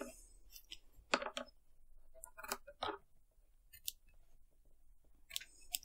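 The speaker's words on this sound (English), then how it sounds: "So try and cut all the loops separately." Small scissors snip embroidery thread loops on raised stumpwork, giving a scattered series of sharp, close, crisp cuts and clicks with quiet pauses between them, no voice present.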